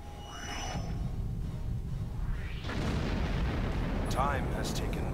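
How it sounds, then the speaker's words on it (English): Heavy torpedo explosions in the space combat game Star Trek Online, a booming blast building after a few seconds and rumbling on under electronic weapon effects and steady game noise. "And another heavy torpedo away. This might end it."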